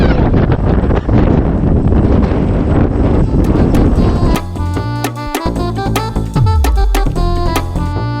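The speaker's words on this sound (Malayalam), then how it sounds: "നല്ല കാറ്റ് പോകും" Strong wind on the glass bridge near Vivekananda Rock, Kanyakumari, roars loudly against the microphone for about four seconds, then gives way to music.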